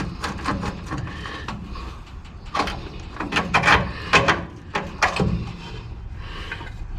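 A transmission cross member is worked loose and pulled from under a 1963 Chevrolet Bel Air, giving irregular metallic clunks, scrapes and knocks at close range with quiet gaps between them.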